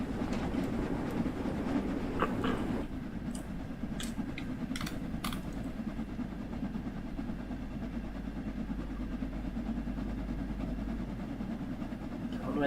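Steam locomotive running in Train Sim World 2 on a line toward Edge Hill, a steady rumbling chuff and rail clatter throughout, with a few brief cab clicks early on and no talk.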